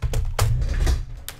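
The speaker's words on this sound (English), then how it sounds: "Grab this keyboard" A computer keyboard is handled and set down, giving a few sharp clacks and knocks close by, without speech.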